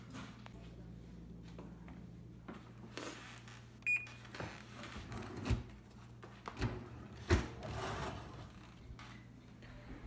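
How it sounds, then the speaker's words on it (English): Oven door handling as an egg-fast dish goes into the oven at 350, a few separate clanks and thumps among quiet kitchen movement, one short electronic beep, and a voice talking now and then. "So I'm gonna put it in the oven for on 350 for 30 minutes."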